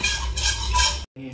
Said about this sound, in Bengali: সম্পূর্ণ আলুগুলোকে আমি ম্যাশ করে নেব